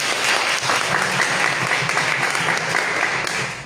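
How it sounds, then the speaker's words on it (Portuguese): An audience at a university history meeting applauds a speaker being welcomed, with loud, continuous clapping that fills the room and eases off slightly at the end. "Mais uma salva de palmas para ele, por favor."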